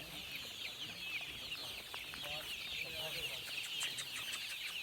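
Desi hens on an open poultry farm in Pakistan cluck in a dense, continuous chorus. Fainter calls and a steady hiss of background farm noise sit underneath, and there is no clear speech.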